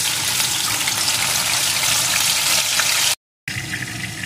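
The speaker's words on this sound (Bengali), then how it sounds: "এখন এই তেলের ভিতরে দিয়ে দেবো আমি ফোড়নে গোটা গরম মশলা, দিয়ে দেবো 1 চামচ কাঁচা লঙ্কা আর আদার পেস্ট" Whole garam masala with green chilli and ginger paste hit hot oil in a steady, loud sizzle that runs without a break, then cuts out briefly before a quieter sizzle resumes.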